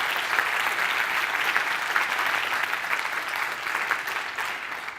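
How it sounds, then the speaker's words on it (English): An audience applauds office staff standing up at a leadership event: dense, steady clapping that holds at an even loudness for the whole stretch, with no break. "Let's give them a round of applause"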